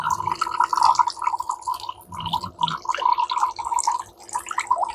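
Wastewater from a portable RV reverse-osmosis water purifier drips and trickles nearby in irregular splashy bursts, with faint background sounds.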